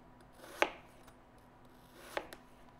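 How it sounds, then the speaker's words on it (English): A knife cuts apples into thin slices on a board, two distinct crisp cuts about a second and a half apart in an otherwise quiet room. "These are going to be thin slices, sort of between 1/8 and 1/4 of an inch thick."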